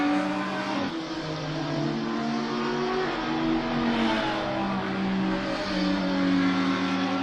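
A Ferrari race car on the Zandvoort circuit in a racing game, its engine droning loud and steady with rising and falling revs through gear changes, alone with no talk.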